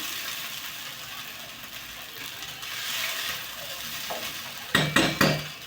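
Poha with potato stirred in an oily pan for kande pohe, a soft steady sizzle and scraping followed by a few loud metallic knocks of the spoon against the pan, with no talk.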